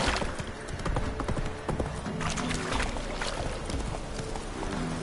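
Roach the horse galloping in The Witcher 3, hooves clip-clopping in a steady, fast rhythm close up and loud, with a snort or whinny mixed in over game ambience.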